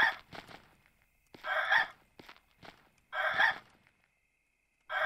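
A chicken in the Yomawari: Night Alone video game gives loud, close bursts of clucking and squawking in a repeating pattern, with quiet gaps between the calls.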